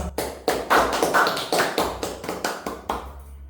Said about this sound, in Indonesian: Tepuk tangan buat Thomas.